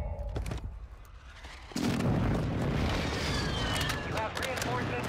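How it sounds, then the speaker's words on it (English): Precision airstrike explosions in a video game hit after a short quieter lead-in, where a game announcer voice speaks. Then a sudden loud, sustained barrage of booming blasts and crackling debris follows, close and heavy. "Enemy precision airstrike. Find cover."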